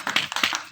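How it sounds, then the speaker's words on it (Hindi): An audience claps at a wedding music event, with a few quick, close, irregular claps and taps over a brief moment. "कौशल के लिए ताली हो जाए प्लीज एक बार"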